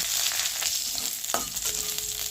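Onion, garlic and pieces of ginger frying in hot oil for a paneer dish, a dense continuous close sizzle with a few light utensil knocks and scrapes, no voices.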